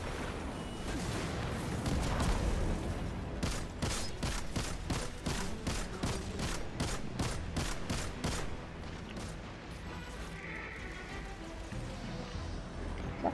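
Volleys of gunfire in Destiny during a Nightfall strike, a fast run of evenly spaced shots in the middle that thins out and gives way to quieter game ambience.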